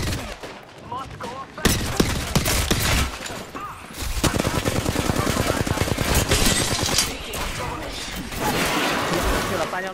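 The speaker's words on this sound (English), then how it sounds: "I'm getting shot at" Apex Legends gunfire rattles in rapid automatic bursts, loud and close, with a burst of game voice and a heavy stretch of sustained shooting after a short pause.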